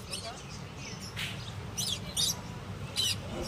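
Exotic caged birds at the Sunday Shreerampur bird market, including lories, give several sharp chirps and squawks in quick bursts over steady market background noise.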